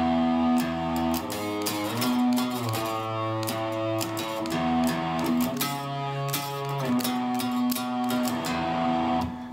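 An electric guitar plays the sustained, distorted riff from a song, ringing notes moving in a repeating phrase, loud and close without any voice.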